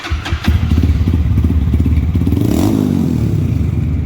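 A Lifan KPM200 motorcycle engine idles and revs nearby, its custom exhaust pipe giving a deep, throaty, pulsing rumble that holds steady throughout.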